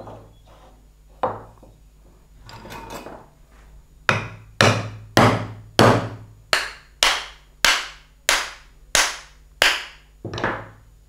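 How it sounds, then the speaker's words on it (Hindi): Wooden handle being hammered into a hammer head: after a few scattered knocks, about a dozen loud, sharp, evenly spaced strikes ring out close up, each decaying quickly. "इस दस्ते को हथौड़ी के अंदर हम डालेंगे"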